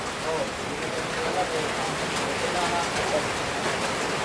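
Heavy rain pours down in a steady, dense hiss outdoors near a mountain, holding an even loudness throughout with no breaks.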